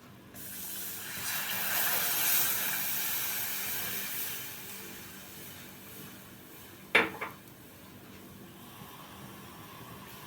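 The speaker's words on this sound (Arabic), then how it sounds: "هنقلب لما الدقيق يتحمص وريحته تبتدي تطلع" Flour being stirred and toasted in a pot on a stovetop, a soft continuous hiss and scraping that fades over several seconds, punctuated by one sharp metallic clink of a utensil against the pot.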